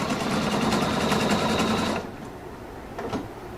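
Pfaff Quilt Expression 720 sewing machine stitching ribbon onto fabric, a loud, close, rapid needle clatter running for about two seconds before stopping, followed by quiet handling sounds.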